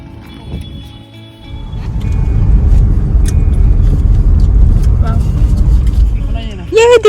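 A car pulls away nearby as a low engine rumble rises and holds, then fades, with voices briefly audible toward the end.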